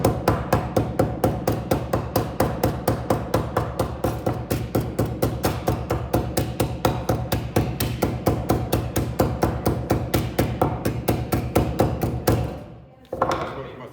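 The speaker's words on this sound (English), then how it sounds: "we're going to use the end of our ball peen hammer to give it some texture first" A ball peen hammer strikes metal in a fast, steady rhythm of sharp close taps while texturing the surface, dozens of blows continuing for about twelve seconds before stopping abruptly.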